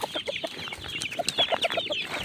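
Pet chicks at feeding time let out close, repeated high peeps and short clucks in a busy, overlapping chorus.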